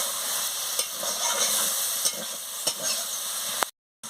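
A banana flower and potato curry is sautéed in a pan with a dense hiss of frying and a few scraping strokes of a spatula, until the sound cuts off abruptly near the end.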